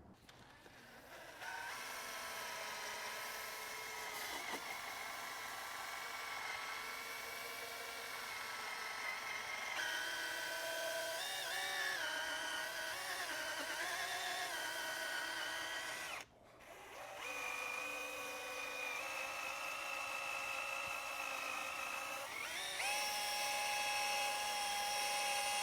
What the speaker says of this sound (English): So now I'm gonna use a drill and use that P500 sanding disc.